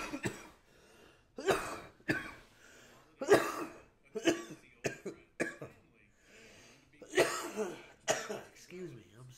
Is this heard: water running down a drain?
no